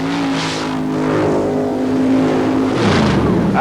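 A Chevy Blazer paddle-tire mud racing truck roars loudly and close through the end of its run at a 1990 mud race in Bayou George, Florida. The engine holds a steady high drone, then its pitch drops as it backs off.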